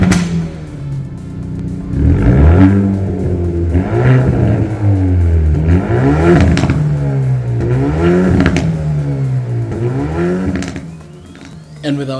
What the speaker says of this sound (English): let's hear what the N Performance exhaust tune sounds like